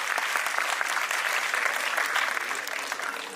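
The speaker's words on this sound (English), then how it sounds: "Huge round of applause for Arsh." Dense, sustained applause from a large audience at a school annual day celebration, an even roar of clapping lasting throughout and fading slightly at the end.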